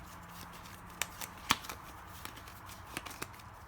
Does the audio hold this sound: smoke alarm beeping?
no